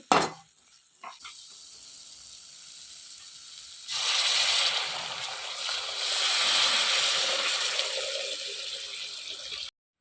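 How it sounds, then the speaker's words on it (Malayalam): Rice water poured into a pan of curry after turmeric has been fried, giving a loud, steady rush of liquid and sizzle that lasts about six seconds. "ഞാൻ കഞ്ഞിവെള്ളമാണ് ഒഴിച്ചു കൊടുക്കുന്നത്"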